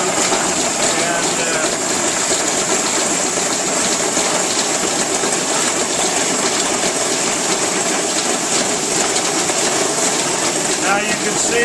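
Pump-driven water sprays steadily from a nozzle onto a Goldtron gold table running black sand, a loud continuous hiss and engine-like hum holding level throughout with no pauses.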